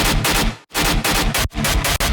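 Loud, dense bursts of heavy rock-dubstep music with gunshot sound effects as punchy percussive hits, broken by two brief drops to near silence.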